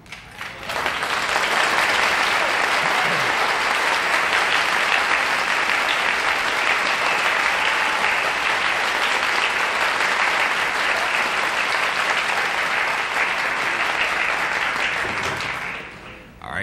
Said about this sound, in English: you can tell by the applause that it's someone that our audience is very well acquainted with